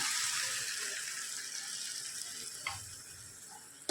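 Banana flower frying in a pan for Bengali mochar ghonto, a steady close sizzle running alone throughout with a couple of soft clinks near the end.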